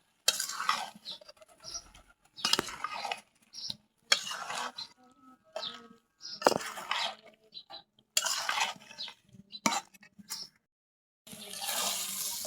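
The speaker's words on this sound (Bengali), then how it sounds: "আলুগুলো দিয়ে এখন ভালো করে কষাবো।" A spoon scrapes and clatters in short bursts as potatoes are stirred and fried in a jackfruit curry, with brief quiet gaps between the strokes and a faint sizzle underneath.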